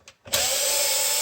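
A power drill whines steadily after a couple of brief starts, driving out screws from the plastic casing of a food vacuum sealer; loud and close, with no talking.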